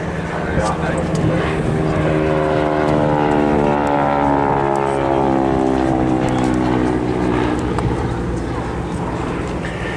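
A Harvard propeller aircraft flying a display at Duxford, its engine drone loud and steady throughout with the pitch sweeping as it passes, alongside a second Harvard in a duo display, while a commentator talks over it.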